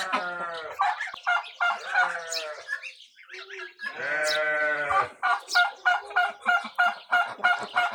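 Geese on a poultry farm honk close by, first in drawn-out squawking calls and then in a quick, rhythmic run of short, loud honks.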